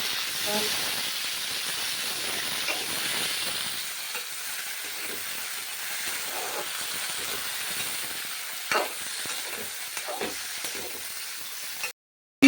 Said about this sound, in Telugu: బాగా ఎందుకంటే పచ్చిమిరకాయలు వేగిపోయినాయి